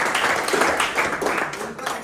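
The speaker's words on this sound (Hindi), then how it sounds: "देवनाथ दादा के लिए जोरदार तालियां।" A crowd claps for Devnath Dada, a short burst of dense applause mixed with voices.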